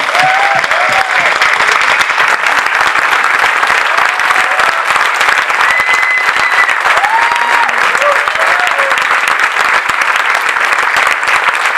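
Loud, sustained applause from a large audience at a corporate event aboard a cruise ship welcomes a woman onto the stage, continuous dense clapping with faint voices and cheers rising over it.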